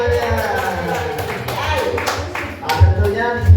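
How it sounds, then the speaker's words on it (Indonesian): A group gives brief applause, with scattered claps rising near the end under a speaking voice. "Tepuk tangan dulu buat semuanya."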